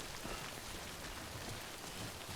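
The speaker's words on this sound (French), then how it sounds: "faut pas que je reste sous la pluie" A dense, unbroken downpour in the video game Death Stranding fills the whole moment, a loud and even wash of rain with no talking over it.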